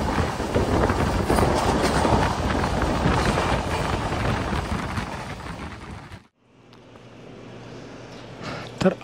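A train pulls into Kundapura station on the Konkan railway in Karnataka: loud rumbling and clattering with heavy wind buffeting for about six seconds, then an abrupt drop to a quieter, steady hum.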